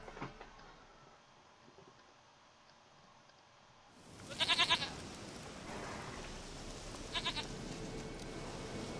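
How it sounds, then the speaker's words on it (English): A goat in The Witcher 3 bleats twice in short rapid pulsed bursts over the game's ambient background, close and fairly loud. "Your stupid ass goat."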